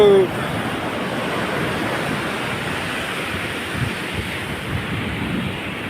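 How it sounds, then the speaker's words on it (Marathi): Ocean waves roll and break continuously on a Konkan beach in a loud, broad rushing wash, with wind across the microphone and no voices. "कशा लाटा येतात बघा मस्त पैकी"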